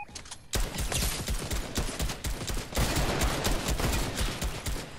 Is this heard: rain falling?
no